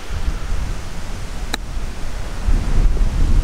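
A golf chip shot struck toward the hole on a windy course in New Zealand: one sharp, brief click of club on ball, heard over heavy steady wind noise on the microphone.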